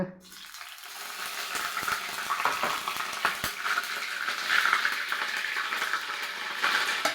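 Ginger garlic paste sizzling and frying in ghee in a pan, a steady crackling hiss with occasional stirring scrapes, close and continuous throughout, with no talking.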